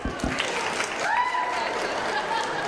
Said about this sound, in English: Give him a clap as he walks in.